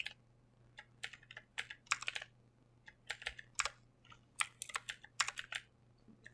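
Keys clatter on a computer keyboard during work on a Microsoft Word document, in quick irregular clusters of taps, soft and close, with no talking.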